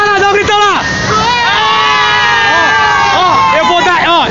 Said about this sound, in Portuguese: Então vai lá, dá um grito lá!